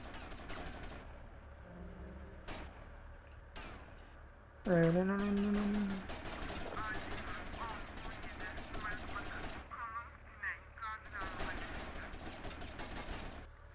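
Gunfire from powerful weapons in GTA Vice City, rapid bursts of shots and loud blasts layered over game music and effects, with a voice commenting in between.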